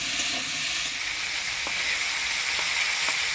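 Potatoes and vegetable stems fry with turmeric and salt in a steady, loud, hissing sizzle, with a few faint taps from stirring and no voices.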